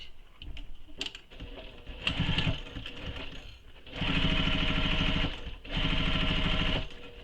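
A sewing machine stitches a tote bag in several bursts: short uneven runs at first, then two long steady whirring stretches near the mic, separated by a brief pause.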